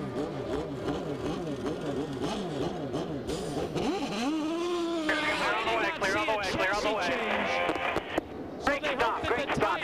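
IndyCar race engines at the 2000 Las Vegas Indy 300 rev and whine past in sweeping pitch changes, loud and continuous, with commentators talking over them.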